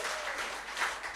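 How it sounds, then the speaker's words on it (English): Steady applause from an audience at a poetry evening, a dense wash of many hands clapping throughout, moderately distant and even in loudness, with no voices over it. "So a big round of applause to Anita."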